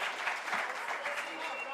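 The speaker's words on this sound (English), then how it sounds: "let's give Stephen a round of applause" Church congregation applauding the drummer at a Sunday meeting, a moderate wash of clapping at some distance with a voice talking over it.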